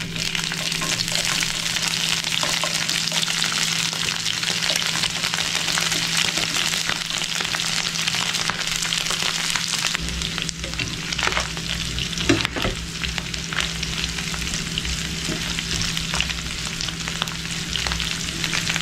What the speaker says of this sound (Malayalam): അപ്പോൾ ഇതിലേക്ക് നമുക്ക് ഈ മീനിനെ ഇട്ട് കൊടുക്കാം.